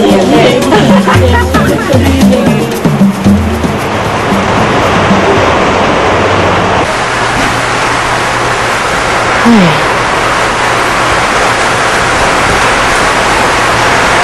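Heavy, steady rain pouring on a leaking roof, a loud dense hiss filling the whole stretch, with a voice speaking under it at the start.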